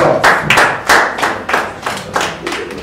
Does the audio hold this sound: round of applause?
yes